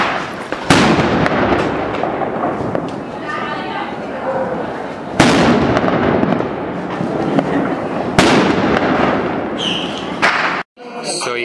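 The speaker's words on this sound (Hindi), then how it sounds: "सबको इनके बर्थडे का बम फोड़ दो।" Loud firecrackers burst at a Diwali birthday celebration in Indore, three big blasts with long crackling tails spread across the clip, followed by a short popping string at the end, with voices talking underneath.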